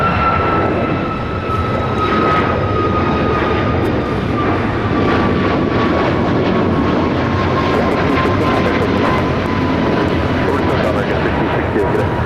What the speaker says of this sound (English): That is American Airlines 1668 taking off to Phoenix on the MAX 8.